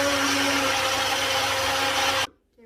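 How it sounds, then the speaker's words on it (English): A blender whirs steadily, mixing an Oreo milkshake made with vanilla ice cream, milk and crushed Oreo cookies, then cuts off abruptly near the end. "Gonna blend everything together."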